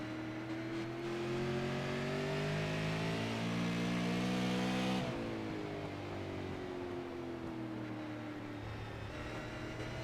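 Super late model race car engine revving hard under acceleration in a sim racing game, a loud sustained engine tone rising in pitch, dipping at a shift around the midpoint, then climbing again, with no talk.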